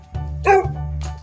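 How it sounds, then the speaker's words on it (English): A single dog barks once, a short clear bark up close, set over a steady low hum. "Cute dog!"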